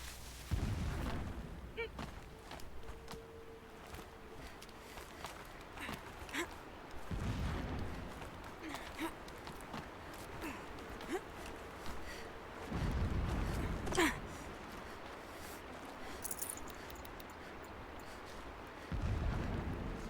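Distant explosions in Horizon Zero Dawn, several deep muffled booms spaced a few seconds apart, rumbling low beneath scattered game sounds and occasional talk.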